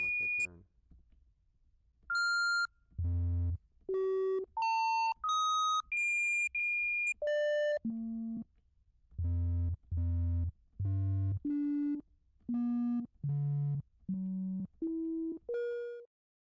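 Computer-generated beep tones sound one after another in short, evenly spaced pulses, each at a different pitch as a dial is turned, jumping high and then settling lower, clean and electronic with no talk.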